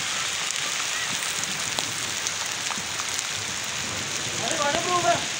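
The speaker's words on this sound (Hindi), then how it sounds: "बहुत ही ज़बरदस्त बारिश है" Heavy rain falls steadily after a long drought, a dense continuous hiss of drops striking surfaces close by, with a voice briefly audible near the end.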